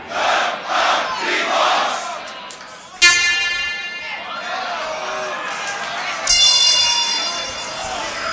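A crowd at a beatbox battle, the Grand Beatbox Battle 2019 loopstation quarterfinal, shouts back in loud call-and-response, a chanting roar of many voices with sharp horn-like synth stabs cutting in twice over the noise.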